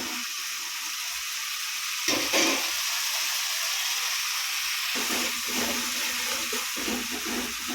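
Tomato sautéing in a pan for vada kara kuzhambu produces a steady bright sizzle with intermittent scraping and stirring sounds, a louder stretch around the middle, fairly close and without talk.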